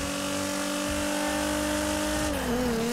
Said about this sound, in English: Yo, this GTR is fast, man.